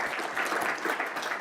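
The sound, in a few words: audience applause for Marjorie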